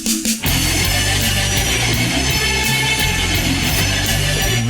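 A 1991 album plays loud and dense, a wall of distorted guitars with steady bass and drums, alone with no talking over it.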